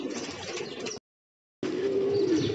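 Pigeons settled on a rooftop give soft cooing and bird calls close by, broken by a brief cut to silence before the calls resume.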